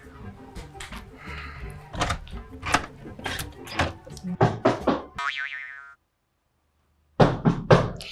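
Firm knocks on a door sound in bursts, several raps with pauses between them, close and loud, interrupted briefly by a short tonal sound before another knock.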